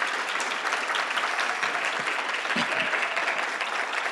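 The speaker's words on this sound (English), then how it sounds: "can we just have an applaud for our president?" Sustained applause from a conference audience honoring their president, a thick steady clapping that stays level throughout with a faint murmur of voices underneath.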